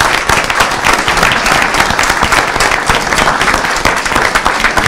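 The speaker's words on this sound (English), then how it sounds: "Round of applause." Steady, loud applause fills a city council meeting room as a wrestling team is recognized, with dense continuous clapping from the audience throughout.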